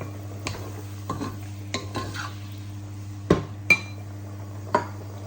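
Chicken liver igado is stirred in a pan with soy sauce, a utensil clinking and scraping against the metal in sharp, irregular knocks over a quiet, low sizzle.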